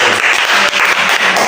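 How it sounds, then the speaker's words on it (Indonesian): Classroom applause from a group of students, a burst of steady, dense hand clapping lasting the whole moment, close and loud. "kita tepuk tangan dulu"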